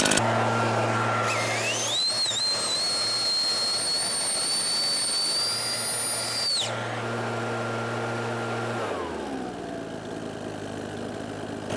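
Neotec backpack leaf blower revving from idle to full speed, a loud close roar with a rising high whine that holds steady for several seconds, then drops and winds back down toward idle.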